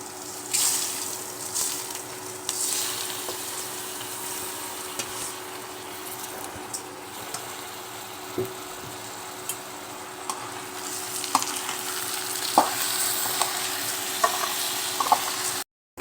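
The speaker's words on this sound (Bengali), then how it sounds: "আমাদের ভাজা হয়েছে, এখন আমরা খুদের চাল দিয়ে দিব।" Broken rice added to oil and fried onions sizzles in a pan while a utensil stirs and scrapes, with soft frying hiss and sharp clinks and taps near the end, close and with no talk.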